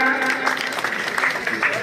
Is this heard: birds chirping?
no